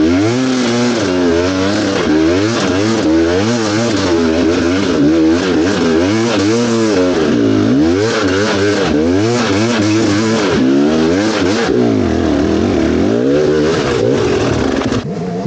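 An MPX300 motorcycle engine on a test ride revs hard through repeated rising and falling sweeps, loud and close, running continuously from start to finish.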